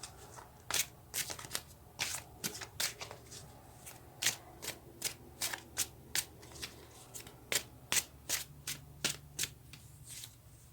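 Tarot cards are shuffled by hand in a quiet room, giving a steady run of crisp, close riffling snaps and flutters, evenly spaced, with no talk.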